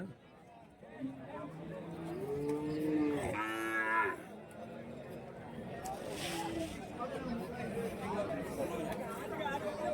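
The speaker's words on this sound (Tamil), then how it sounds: "இது வந்து ஜோடியாக இருக்குது மாடு" Cattle at a Friday livestock market in Krishnagiri district, Tamil Nadu, let out a long, loud moo over a steady crowd chatter and background hubbub, with people talking nearby.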